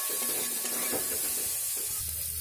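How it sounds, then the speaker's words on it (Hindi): Garlic, ginger and cashews fry in a pan for kadai paneer, giving a steady, close sizzle with stirring scrapes and no voices. "जो लहसुन काटी थी उसको भी डाल दी, थोड़ा सा अदरक, काजू, सबको इसको के लिए फ्राई कर लूँगी पहले"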